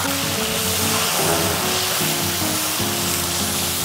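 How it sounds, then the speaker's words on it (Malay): Spices and curry leaves sizzle in hot oil for banana stem curry, a steady, loud crackling hiss that runs continuously with a low rumble underneath and no voices. "kita masukkan rempah 4 sekawan, daun kari. Bagi ada bunyi, baru syok."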